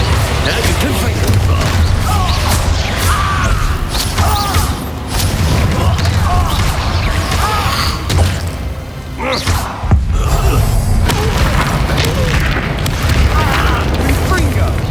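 Confringo fire spell blasts in Hogwarts Legacy combat land as repeated heavy booms and thuds amid dense, noisy battle clatter, with a brief lull partway through and game voices calling out in the mix.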